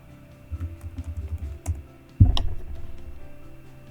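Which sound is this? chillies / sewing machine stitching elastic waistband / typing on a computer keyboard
typing on a computer keyboard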